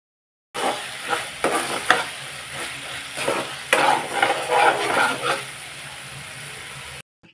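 Tomatoes with salt frying alongside onions in a pan, a loud close sizzle with irregular stirring scrapes and swells, steady throughout with no talking.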